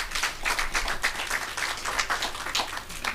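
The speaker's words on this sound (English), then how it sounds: "Please give the Minister another round of applause." Audience clapping for a government minister at a World Bee Day celebration, close, loud rhythmic applause with distinct individual claps forming a lively, sustained burst.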